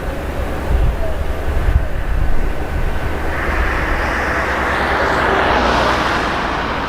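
A Gulfstream 200 private jet, its engines producing a steady, loud broadband roar with wind-like rushing that swells slightly and shifts in tone over several seconds, with no pauses.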